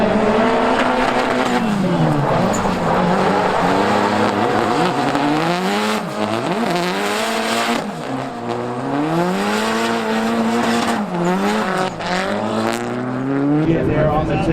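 A 600hp KA24DET-powered Nissan 240SX drives hard, its engine loud and continuous with repeated rising revs and shifts, tire squeal mixed in, and voices talking over the engine throughout.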